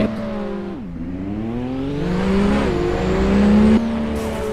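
A Toyota Supra with a turbo engine revs in the Roblox game Driving Empire, its loud, steady engine drone rising and falling in pitch through several surges before dropping off near the end.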